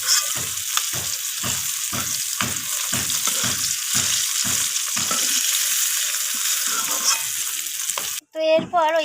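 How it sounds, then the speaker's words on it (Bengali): Rohu fish pieces sizzle and fry in hot oil with a steady crackle, broken by regular scraping strokes of a spatula stirring the pan, before a brief clatter at the very end. "এই মাছগুলো আমার লালচে করে ভাজা হয়ে গেছে।"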